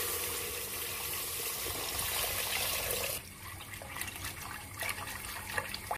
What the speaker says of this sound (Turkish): Şimdi suyunu ekliyorum.